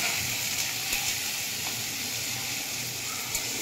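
Green chilies and garlic fry in hot oil, a steady close sizzle and crackle with faint bubbling that carries on evenly throughout.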